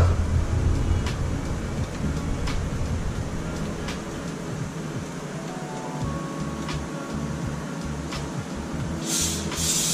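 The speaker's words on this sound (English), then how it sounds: "So just gonna lightly spray both sides." A light hiss of extra virgin olive oil sprayed onto fish before air frying, heard as a steady spray texture over a constant background noise for several seconds, with no one talking.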